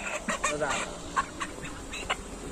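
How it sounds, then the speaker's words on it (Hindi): A pure black country rooster at a village poultry market in Chhattisgarh, with clucks and short calls repeating over a dense, busy market din, and people talking nearby. "ये देखो गाँव से प्योर काला कलर का मुर्गा है"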